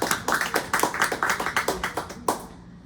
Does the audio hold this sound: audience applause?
yes